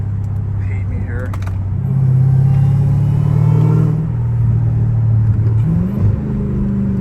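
Catless Dodge Hellcat Redeye V8 with exhaust valves closed, idling in a low steady rumble then revving up and settling back, with rising and falling pitch sweeps; a voice talks over it at times.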